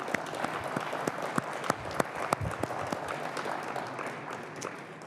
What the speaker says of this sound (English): I think we should all give them a round of applause for their sterling work